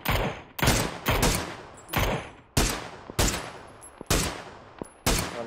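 Gunshots ring out in PUBG, about nine loud, sharp reports in an uneven sequence, each with a ringing decay, with no talk.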